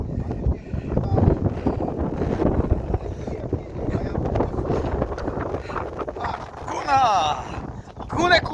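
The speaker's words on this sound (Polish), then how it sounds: "pogoda tylko nam cały czas wieje w buzie. Hamuje nas wiatr." Wind buffets the microphone with a constant rumbling roar while cyclists on a long-distance pilgrimage route talk throughout.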